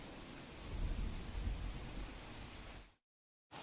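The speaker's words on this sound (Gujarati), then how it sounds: "અમદાવાદના મોટાભાગના વિસ્તારોની અંદર અત્યારે વરસાદ જે છે તીવ્રતાથી વરસી રહ્યો છે" Intense monsoon rain lashes Ahmedabad after a long dry spell, a loud, dense roar of rain with deep rumbling that swells early, then fades out abruptly before returning.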